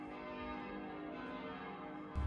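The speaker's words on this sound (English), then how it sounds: "we heard the ringing of church bells" Dense, sustained ringing of church bells with layered overlapping tones, fairly distant, continuing steadily before a louder burst at the end.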